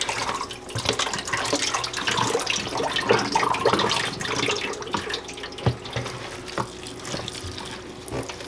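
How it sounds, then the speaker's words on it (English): Greens rinsed under a running kitchen tap in a sink, giving a steady close stream of water with splashing and clattering as the leaves are handled, and no talk. "Right now I'm ready to rinse these greens out."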